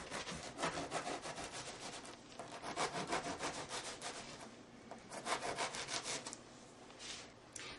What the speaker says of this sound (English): And you want to cut a diagonal stripe, leaving about, oh, almost an inch in between the slices.